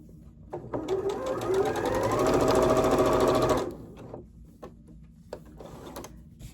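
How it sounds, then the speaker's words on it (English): Close by, a sewing machine runs for about three seconds in one steady, rapid burst as it joins Dresden wagon-wheel fabric pieces. A few faint taps and clicks of handling follow. "now I'm going to flip these together and sew down that side"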